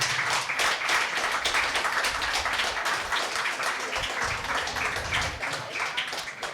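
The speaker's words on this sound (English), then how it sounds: "Can we give them a huge round of applause?" Audience applause for the speakers at the Bhopal Literature and Art Festival, a dense continuous patter of many hands, fairly loud and steady, with a low murmur of voices underneath.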